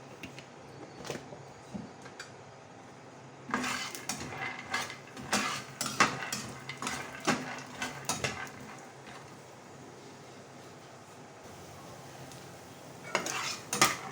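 Peanuts fry in a little soybean oil in a pan, stirred with bursts of scraping and rattling clatter against the metal and brief pauses between rounds.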